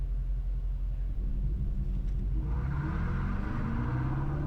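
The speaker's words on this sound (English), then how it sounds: "launch control in the new Dodge Charger" A 2025 Dodge Charger Daytona EV launching hard on a track, a loud, steady electric whir and road rumble that rises in pitch as it accelerates, with no talk.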